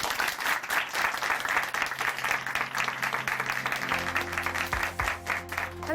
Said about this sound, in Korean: 오늘 좋은 간증 전해주신 자매님께 다시 한번 박수 보내드리겠습니다